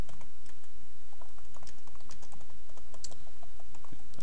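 Rapid keystrokes on a computer keyboard during photo file editing, a steady run of clicks close to the microphone with no voices.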